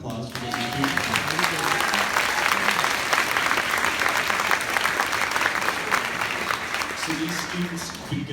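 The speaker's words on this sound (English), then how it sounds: "So can we give them a round of applause for what they're doing?" An audience claps for young string students after their first performance, loud and sustained applause with a few voices and instrument tones mixed in at the start and end.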